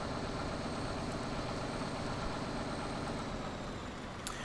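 A Dodge service truck engine idles in Farming Simulator 19: a steady, low, continuous diesel rumble with a constant drone, alone without talk, with a brief faint click near the end.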